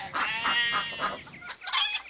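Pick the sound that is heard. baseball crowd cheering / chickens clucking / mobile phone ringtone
chickens clucking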